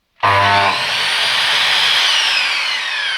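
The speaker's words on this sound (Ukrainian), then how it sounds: "зелена зелена серія запускається жорстко але чітко і тихо працює" A Bosch PCM 8 S mitre saw starts abruptly and spins up to a steady, loud whine that holds evenly for a few seconds, close by with no talking.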